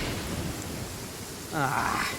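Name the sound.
lightning storm with thunder and rain in Genshin Impact video game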